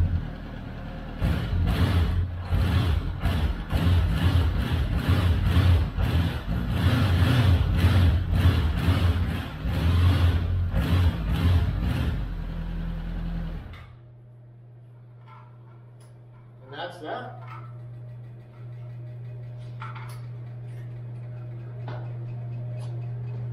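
A 1979 Honda CB750 motorcycle engine revs repeatedly in loud, rhythmic bursts for about fourteen seconds, then drops to a steady low idle with a few faint clicks and knocks nearby.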